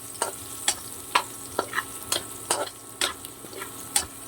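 Garlic frying in oil in a pan with a utensil scraping and stirring, giving a run of distinct clinks and scrapes roughly every half second over a low sizzle.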